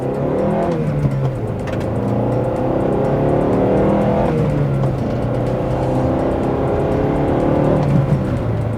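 Honda Accord CL9 driven hard, its engine revving up through the gears in a continuous loud close drone with rising pitch sweeps and steady road noise.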